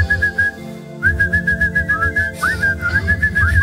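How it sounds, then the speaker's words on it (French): A person whistles a lively tune up close, with clear, bright notes that rise, fall and slide in short phrases. A soft rhythmic thumping of background music runs beneath the whistling. "Oh, j'adore siffler. Ah, je sifflerai pendant des heures."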